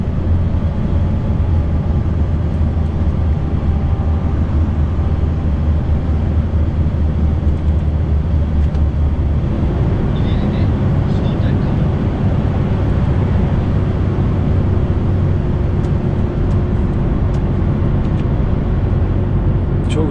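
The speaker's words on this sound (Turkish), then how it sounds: "Retarderi duyuyor musunuz?" Heavy loaded truck rolling down a ramp at around 40 km/h under retarder braking, a continuous deep engine-and-driveline drone that shifts in texture about halfway through, close and loud, with no clear speech.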